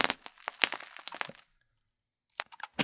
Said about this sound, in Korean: 그 다음에 플롭, 스퀴시, 임팩트 뭐 이런 소리들이에요.